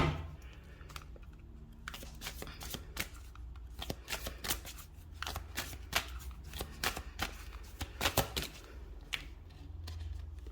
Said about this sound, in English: I'm going to pull some cards to close out this reading.